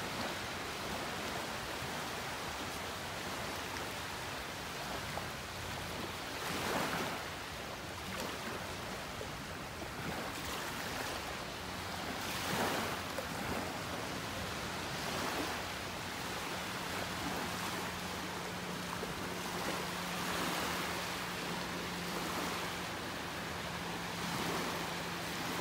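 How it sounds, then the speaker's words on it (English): Ocean waves breaking over very shallow water along a beach in North Naples, Florida, making a steady, continuous wash of surf with gentle swells rising and falling throughout, with no voices. "You can see all those waves breaking right there."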